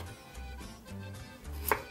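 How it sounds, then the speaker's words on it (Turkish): A knife chops tomatoes steadily on a cutting board, several soft thuds in a loose rhythm, ending with a light clink of a utensil. "Domateslerimi doğrama işlemi bitti."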